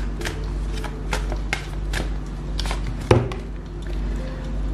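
Tarot cards are handled and shuffled close by, with soft riffling, sliding and tapping bursts over a low steady hum, including one sharper snap, with no talking.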